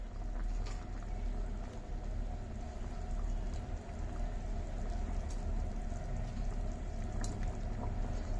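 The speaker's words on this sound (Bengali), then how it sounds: "ঝোল ফুটে এসছে" Fish curry broth with potatoes at a steady rolling boil in a pot, a continuous dense bubbling wash with a few brief pops, no voices.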